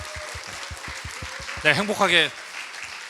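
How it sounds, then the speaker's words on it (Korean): A church congregation claps for a newlywed couple at a Sunday worship service, a steady run of hand claps spread through the room, with speech rising over it midway. "우리 박수로 축복하겠습니다"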